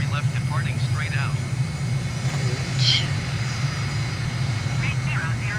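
Jet aircraft engine roaring at takeoff in Microsoft Flight Simulator, a steady loud low drone sustained throughout, with radio voices talking over it.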